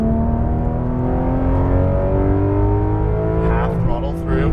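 Porsche 911 GT3 pulling hard out of a corner on a race track, its engine note climbing steadily in pitch as throttle comes on, loud and close with a brief dip near the end.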